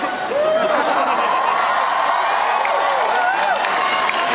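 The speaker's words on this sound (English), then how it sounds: "The first time my puppet's gotten an applause for waving." A live concert audience in an Amsterdam music hall cheering and clapping, a dense, loud and sustained roar of crowd noise with whoops, steady throughout.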